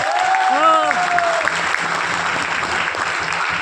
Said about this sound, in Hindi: गुरुदेव डॉक्टर शिव कुमार सर और गुरुदेव महिपाल सर के लिए जोरदार तालियां